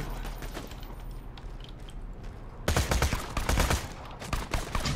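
Rapid gunfire from the video game Borderlands 2, dense bursts of shots that jump suddenly to a loud, close barrage halfway through after a quieter stretch of distant firing.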